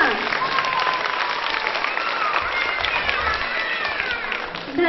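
Crowd at an Independence Day program at a district education institute in Muzaffarpur claps loudly and continuously, a thick steady wave of applause lasting the whole moment.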